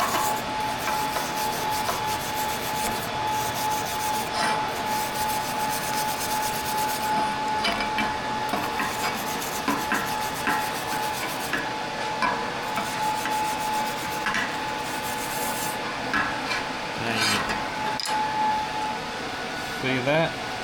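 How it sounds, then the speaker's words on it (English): Wire brush scrubbing over a stainless steel TIG weld on an oil filter delete plate for a Ford 4.6 derby car, a steady dense scratching rasp that runs continuously and fairly close throughout. "And then all you do is come around with a little bit of wire brushing."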